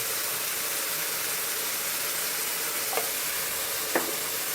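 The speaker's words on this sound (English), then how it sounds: "Stir it well." Cumin and curry spices stirred in a hot frying pan, a steady hiss of sizzling oil with a couple of faint scraping strokes near the end, close and without talk.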